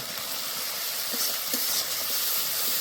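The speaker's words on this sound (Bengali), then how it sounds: "এবার ভালো করে কষে নেব।" Ground turmeric, coriander and cumin powder being sautéed in a pan for a rohu fish head and kolai greens ghonto, giving a steady hiss with a few soft scraping touches of the spoon, close up and without talk.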